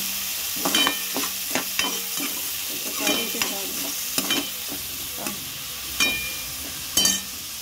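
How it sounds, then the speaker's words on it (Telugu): Two thinly sliced onions frying in a pan for chicken curry, a soft steady sizzle broken by repeated scraping stirs of a spoon against the pan, close by with no talking. "ఇవి లైట్గా వేగితే చాలా మమ్మీ. కొంచెం వేగాలి, కొంచెం కలుపుకోవాలి."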